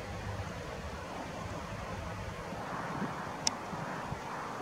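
Low, rumbling wind buffets the microphone in a continuous, uneven roar outdoors at night in Kharkiv, with a faint click partway through.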